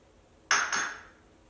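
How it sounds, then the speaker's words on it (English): Espresso poured over ice in a glass gives a sharp clinking crackle of ice, two quick bursts that ring briefly and then fade. "And then I like to take the espresso, pour it over the ice."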